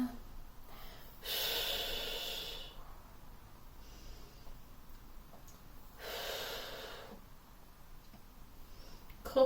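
Deliberate breathing during a Pilates class: two long, airy breaths about four seconds apart, each lasting over a second, close and moderately loud over a quiet room, with faint softer breaths between.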